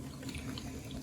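Chocolate coffee stout being poured over lamb shanks for braising, a soft continuous liquid splashing and trickling at low level, alone.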